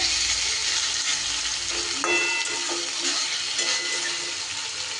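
Vegetables frying in a pan while being stirred, a constant sizzle with scraping and clattering spoon strokes in the middle, close and moderately loud with no talk.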